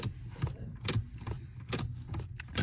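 Gear wrench ratchet clicking in a garage during an LS swap job on a second-gen S10 truck, a few sharp metallic click bursts at roughly regular intervals, close and clear over low background rumble.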